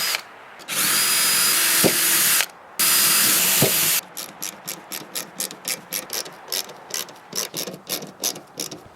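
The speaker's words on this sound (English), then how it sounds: "driving them in by hand instead of using the power tool" Screws are driven into stained wood trim, first with two long whirring bursts of a power driver, then by hand with a quick run of rhythmic ratcheting clicks, close and alone.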